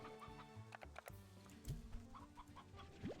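Chicks in the game Slime Rancher 2 cluck and chirp steadily close by, with short bright peeps rising over a soft game background and no talk.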